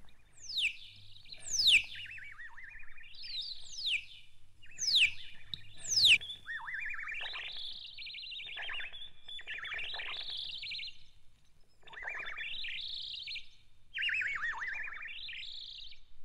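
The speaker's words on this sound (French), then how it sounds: "Les magnétophones magiques ont tiré de l'heure exacte ces chants d'oiseaux." Synthetic bird songs made on magnetic tape from the Neuchâtel observatory time signal: several quick bright descending chirps, then longer warbling phrases that rise and fall, repeating in bursts over a faint low hum.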